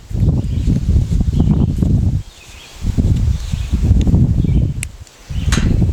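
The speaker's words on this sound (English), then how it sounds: "really windy today" Wind buffets a microphone in loud low rumbling gusts, with brief lulls between them and no voices.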